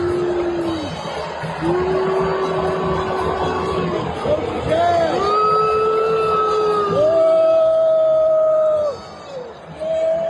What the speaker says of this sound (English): the whole crowd erupted in boos